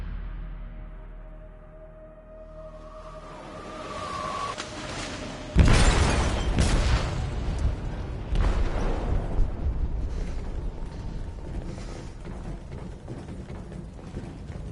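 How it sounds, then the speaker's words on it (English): A deep, heavy blast rips through a ship's hold in Detroit: Become Human, a sudden loud boom followed by rumbling, creaking metal and debris as the vessel starts to sink, with no voices. "They detonated an explosive in the hold."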